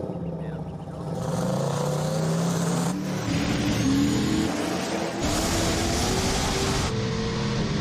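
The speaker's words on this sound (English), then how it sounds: "Man, Dave, that old truck's running good" A homemade diesel drag truck built from junkyard parts roars hard during a run, engine pitch climbing steadily through gear changes and loud throughout.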